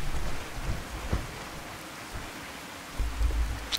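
Steady rain with rumbling thunder in the video game Fallout 4, a continuous wash of downpour with low thunder swells near the start and again toward the end, no voices.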